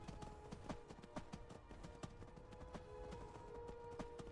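Horse hooves gallop in steady, rapid clip-clop beats in Skyrim, close and quiet, with no voices over them.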